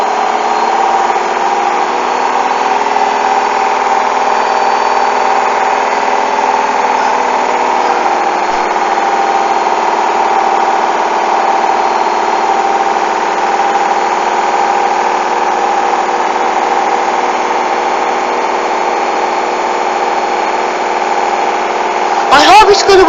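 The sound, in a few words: Hoover washing machine running a 40 degree load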